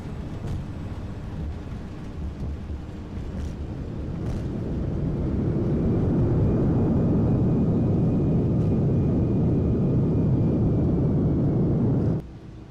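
An airliner lands in a flight simulator game with brakes and reverse thrust. Its low engine roar swells over a few seconds, holds loud and steady, then cuts off sharply near the end.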